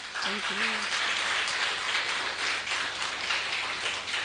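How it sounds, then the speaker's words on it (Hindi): Loud, steady applause from a crowd at a Hindi-language gathering, a dense wash of clapping that fills the whole stretch, with a brief voice at the start. "एक बार जोरदार तालियों के साथ"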